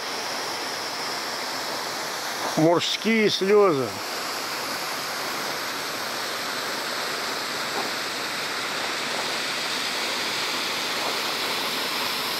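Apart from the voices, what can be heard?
mountain waterfall near Lake Ritsa in winter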